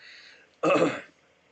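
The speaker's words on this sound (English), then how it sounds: "Excuse me, sorry about coughing so much." A single short, rough cough or throat clear bursts out close up, lasting under half a second amid quiet.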